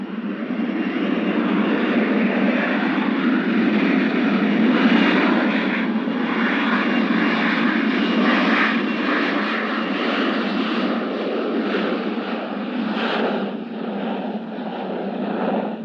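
A USMC RF-4B jet reconnaissance aircraft roars steadily during takeoff, a loud, continuous engine rush that holds for the whole stretch with slight swells.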